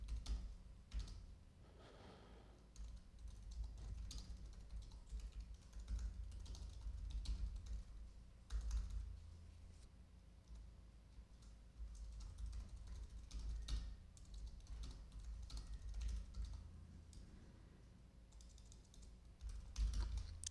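Fingers type steadily on a computer keyboard, a long run of light, irregular key clicks at moderate distance with short pauses, while nobody speaks.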